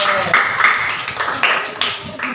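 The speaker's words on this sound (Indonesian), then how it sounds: "Tepuk tangan untuk semuanya" Classroom clapping in a lesson, with several bursts of hands clapping in a patterned, chant-like rhythm, loud and close, and voices mixed in.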